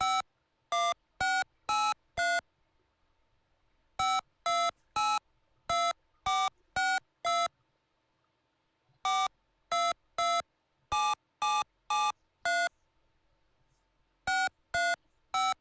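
A TI BASIC program plays touch-tone DTMF dialing tones as loud, clean beeps in quick groups of several tones, with short silent pauses between the sequences.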